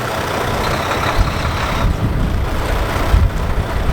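Heavy truck in a parked pre-trip air brake check, put in gear and pulling against its trailer parking brake: a steady, fairly loud low diesel rumble with slight surges, no talk.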